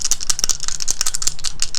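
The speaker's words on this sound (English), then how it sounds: "Now we are going to throw the dice that have no name." Small dice rattle and clatter in a rapid string of sharp, bright clicks and taps, loud and close, with no talk over them.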